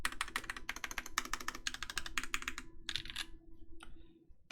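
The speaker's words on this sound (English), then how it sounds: "That's such a good keyboard." Typing on a Void65 keyboard with a polycarbonate case: fast, close bursts of crisp key clacks in several runs, separated by brief pauses and tailing off at the end.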